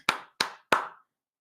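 Three crisp hand claps sound in an even rhythm, close and clear, with silence after the last one.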